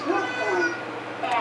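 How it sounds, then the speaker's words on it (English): A cat meows in a drawn-out, wavering call heard over background voices and room noise. "I hear the cat."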